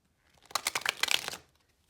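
Tarot cards being shuffled by hand on a worn blanket, a soft papery riffling burst of about a second, close and fairly quiet, with no talking.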